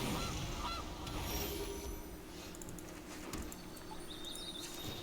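Honking from the Golden Goose card in the MTG Arena digital card game, a short goose-like honk and squawk heard over steady background music and game effects.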